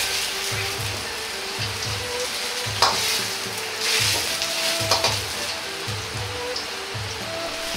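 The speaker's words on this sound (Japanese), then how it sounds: "両面をしっかり焼くことで大根が香ばしくなり甘みも増します。" Daikon radish slices pan-fry in a hot pan, a steady close sizzle broken by soft rhythmic scraping or stirring knocks and a few brighter spatters, with no talking.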